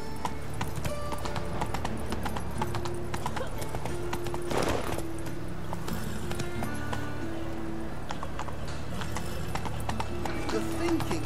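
Horse hooves gallop in The Witcher 3 game, a steady rapid clip-clop running throughout with game ambience, a short whinny-like rush midway and a voice speaking briefly.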